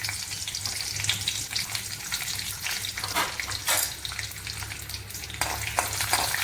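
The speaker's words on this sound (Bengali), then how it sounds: "তেলটা গরম হয়ে গেছে, আমি কাজু দিয়ে দিলাম।" Cashews sizzle in hot oil in a home kitchen, a steady close crackling fry with scattered sharper pops and bursts over a low hum.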